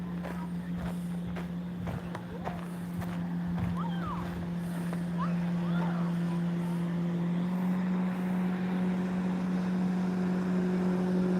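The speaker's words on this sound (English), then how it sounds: "USGS research boat. Making waves." A USGS research boat motors past on a river, its steady engine drone holding loud and constant throughout with a faint wash of water beneath.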